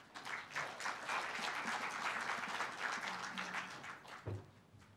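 Audience applause at the opening ceremony of the Seoul 50+ International Forum 2017, a full hall clapping together to welcome a speaker, steady and dense for about four seconds before tapering off abruptly.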